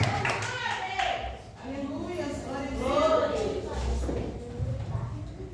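A church congregation claps during a worship service. The applause is moderately loud and steady, with a voice speaking over it.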